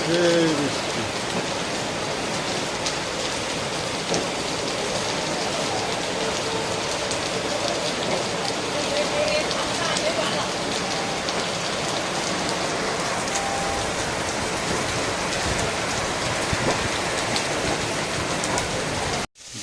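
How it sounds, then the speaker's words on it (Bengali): Steady rain falls close by, a dense, even hiss that carries on unbroken for the whole stretch and cuts out abruptly at the very end. "সেই বৃষ্টি"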